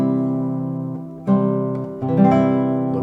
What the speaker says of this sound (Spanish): El acorde de tónica de Do mayor suena así.